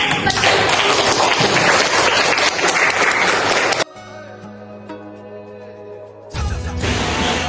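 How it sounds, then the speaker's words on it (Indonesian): A classroom of pupils breaks into loud, dense applause for nearly four seconds, then it cuts to a quieter room with a low hum and scattered taps before another burst of clapping at the end. "tepuk tangan untuk menutup"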